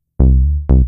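Two smooth synth bass notes played legato, the pitch gliding upward between them with no plucked attack, the first held long and the second entering after a short dip, clean and alone.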